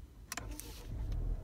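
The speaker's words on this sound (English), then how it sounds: "and the car starts" A 2017 Volvo S90 starts with a brief twist of the key, giving a short whir followed by the engine catching into a low, quiet idle, heard alone up close.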